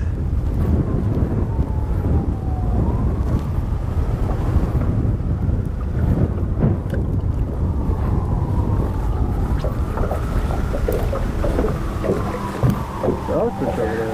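Strong gusting wind buffets the microphone outdoors by a river bank, a loud continuous roar with bursts, while distant sirens sweep faintly underneath and someone talks at times.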